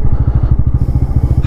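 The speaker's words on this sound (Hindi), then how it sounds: "यही रोक देते हैं बाइक को।" A Bajaj Pulsar N160 motorcycle idles up close after stopping, its engine thumping in a fast, even pulse that stays loud and steady with no talking over it.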